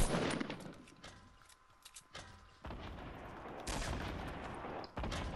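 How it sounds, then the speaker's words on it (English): Gunfire in the Fortnite battle royale video game on PS4: repeated loud bursts of shots and impacts, some dense and rapid, others spaced, with brief lulls between volleys. "Oh, got shot from the left side."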